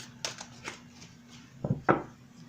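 A few brisk riffles and taps of tarot cards being shuffled, close by, ending with two sharper slaps against a quiet hum.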